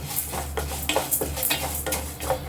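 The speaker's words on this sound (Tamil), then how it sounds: "இப்போ இந்த மாதிரி பொன்னிறமாக வந்து வறுத்து எடுத்துக்கலாம்" Onions fry in a pan for a Tamil-style onion chutney, cooking until golden, with a steady close sizzle broken by repeated scraping and stirring clinks of a utensil against the pan, and no talking.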